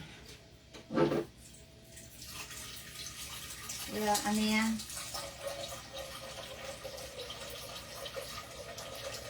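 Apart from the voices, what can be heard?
tap water filling a cooking pot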